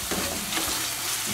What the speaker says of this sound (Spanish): vamos a seguir friendo por unos instantes